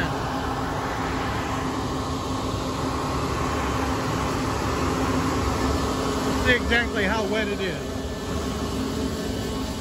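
A grain dryer running on a farm during harvest, giving a constant loud mechanical hum and roar, with someone speaking briefly over it.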